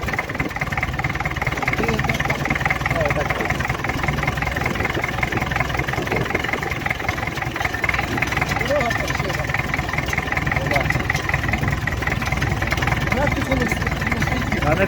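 A homemade tractor engine idles loudly and steadily nearby, a constant low chugging rumble, with people talking over it throughout.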